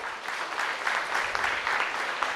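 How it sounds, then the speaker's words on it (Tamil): Audience at a Rotary training camp in Punjai Puliyampatti, clapping together in a sustained, moderately loud round of applause that holds steady without talk. "ஸோ இன்னொரு அளவு அதுக்கு பெரிய கைத்தட்டல் கொடுத்துங்க ரோட்டரிக்கு."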